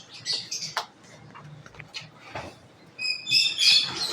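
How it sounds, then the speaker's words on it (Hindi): A pet parrot in an old cage squawks and chirps in short, scattered bursts, fairly faint at first and then sharper and louder near the end, with quiet rustling between calls. "ये तोता बोलता रहता है हमारा।"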